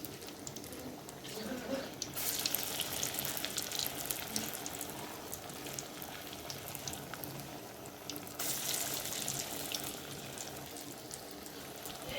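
Potato bora fritters frying in hot oil, a dense, even crackling sizzle that runs throughout at close range, brightening in two stretches without any clear voices.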